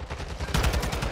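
Rapid burst of rifle fire from the Hemlock in the battle royale game Apex Legends, a close, loud string of quick shots with no speech over it.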